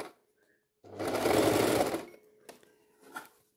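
A sewing machine runs a single steady burst of about a second, stitching the top seam of a fabric eco bag, loud and close, then stops, followed by a few faint handling knocks.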